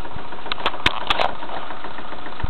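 Pulse motor running with an engine-like sound: a steady low mechanical drone with a few brief sharper clicks and knocks near the start, alone and fairly close.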